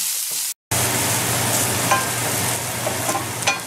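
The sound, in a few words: onions and curry leaves frying in pan for masala dosa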